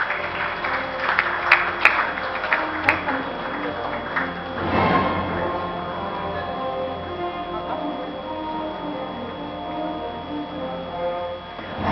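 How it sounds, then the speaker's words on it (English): Applause for an award-winning design studio at a green awards ceremony: a few sharp early claps, then a broad wash of crowd clapping swells mid-way and fades into a steady hall murmur. "Can we have a round of applause?"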